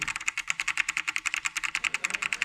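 Fast, steady typing on a Genesis Thor 300 TKL RGB keyboard, a dense run of crisp, close key clacks with no talk.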